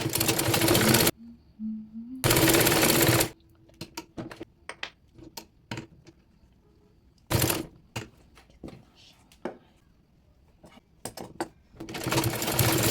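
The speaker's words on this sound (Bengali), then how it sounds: "এবার বডি পার্টের সঙ্গে নিচের কুচির কাপড়টি সেলাই করে নিচ্ছি" A sewing machine stitches the gathered lower fabric onto the body of a baby nightie. It runs in loud bursts that are separated by quiet gaps and scattered clicks, with a final run at the end.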